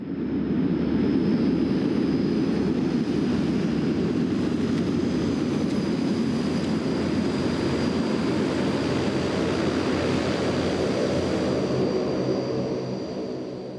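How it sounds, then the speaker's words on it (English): A Russian-built cargo plane landing at a remote jungle outpost, its propeller and engine roar loud, steady and close for the whole stretch, a broad sustained drone with a faint high whine on top and no voices. "A Russian-built cargo plane puts down here every now and then with military and civilian supplies for this jungle outpost"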